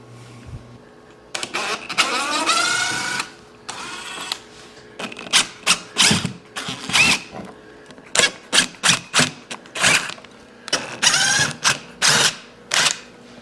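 A power drill backs screw plugs out of an entrance way, with a sustained whir at first followed by many short, loud, rapid bursts of drilling with brief pauses between them.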